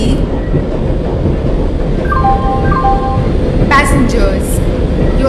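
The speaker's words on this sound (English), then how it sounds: "Superfast Express is arriving at platform number 3." In the Indian Train Simulator game, a Humsafar Superfast Express pulls into a station platform with a loud, constant rolling rumble of wheels on rails, broken by a few short horn-like tonal blasts near the end.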